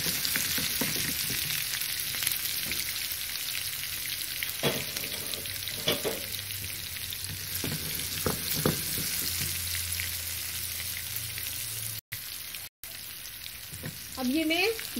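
Onion and green chili frying in a pan for moong masoor dal, a steady, close sizzle and crackle that runs the whole time, with a few stirring scrapes and no talking.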